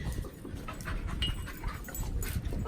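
A dog pants steadily up close, with faint whimpers mixed into the breathing over low background noise.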